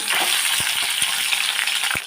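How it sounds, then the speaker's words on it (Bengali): Pieces of rohu fish fry in plenty of oil in a wok, a dense, close hiss of sizzling bubbles with a few soft taps, and no voices. "সবগুলো মাছ আমি ভেজে নেব"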